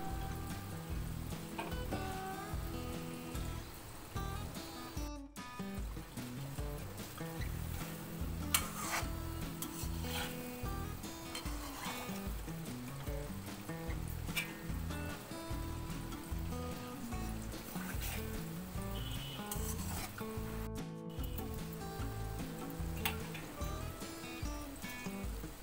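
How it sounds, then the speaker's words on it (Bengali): Gulab jamun balls frying slowly in warm oil in a kadai, a low continuous bubbling sizzle with occasional scrapes and clinks, close and unbroken with no speech. "আস্তে আস্তে ভাজতে থাকলাম।"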